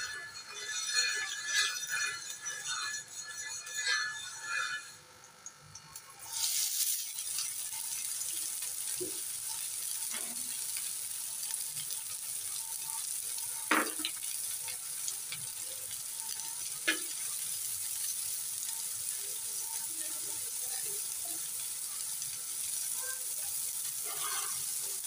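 Onions frying in oil on a hot tawa griddle, a steady bright sizzle that holds for about twenty seconds after a brief quieter moment, with a few soft clicks and stirring taps mixed in.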